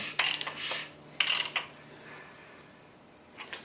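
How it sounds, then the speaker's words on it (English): A crankshaft is turned by hand on a 4.8 LS engine during a piston install, giving two close ratcheting bursts with metallic clicks, then a quiet stretch and a faint final click. "I'm going to turn the crank around where that's at the bottom"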